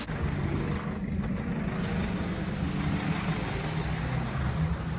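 The engine of a 2006 Mercedes Sprinter 311 CDI crew-cab ambulance runs as a steady, low diesel rumble and hum with no break.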